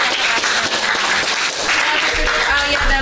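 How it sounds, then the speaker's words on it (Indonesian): Students in a classroom guidance session clap together in a steady burst, with children's voices chattering and calling out over the clapping throughout. "Tetap kasih tepuk tangan dong"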